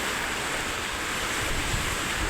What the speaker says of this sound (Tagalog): Batyag namo ang kakusgon sa iyang hangin dalasad sa dala niya nga ulan